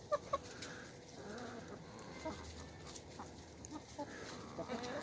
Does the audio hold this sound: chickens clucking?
yes